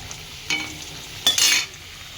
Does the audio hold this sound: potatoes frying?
yes